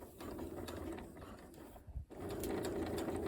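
A sewing machine runs steadily along gusset seams with a fast, clattering rhythm, close and continuous except for a brief stop just before it resumes.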